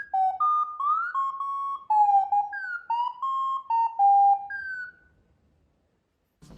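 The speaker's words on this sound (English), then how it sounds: "it plays a unique sequence of astromech beeps and chirps" A quick electronic run of Star Wars astromech-style warbling beeps and chirps from an R2-D2 desk robot, rising and falling in pitch before trailing into silence.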